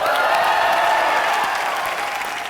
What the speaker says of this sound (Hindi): तो एक बार जोरदार तालियां हो जाए बच्चन साहब के लिए।